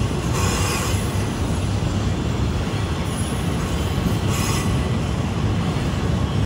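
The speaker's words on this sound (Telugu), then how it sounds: "ఇదైతే ఎంటీ ట్రైన్ జోరత్ వెళ్తుంది ఐరన్ ఓర్ని నింపుకొని రావడానికి" An empty iron ore freight train thunders past in Mauritania, on the Choum to Nouadhibou line, with a loud, continuous rolling rumble of wagons and bursts of high, screeching wheel squeal.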